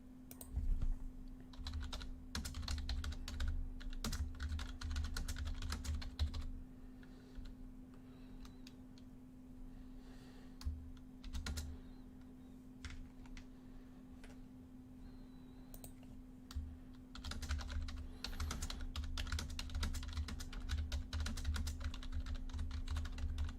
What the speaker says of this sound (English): sorry about all that typing